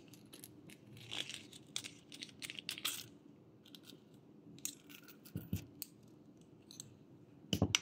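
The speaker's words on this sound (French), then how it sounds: "on va pouvoir venir couper le fil" Scissors snip crochet yarn while a crochet tunic is being finished, producing a few quiet, close clicks and cuts in a hushed room, with one sharper snip near the end.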